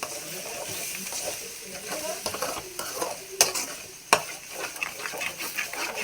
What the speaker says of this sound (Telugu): ఎగ్స్ మాత్రం బాగా దగ్గరుండి బాగా కలుపుకోవాలి, అడుగంటకుండా.